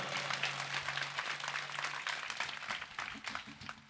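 Steady applause from an audience at a Shiv Jayanti festival event, a broad, sustained patter of many hands with a faint low hum beneath it.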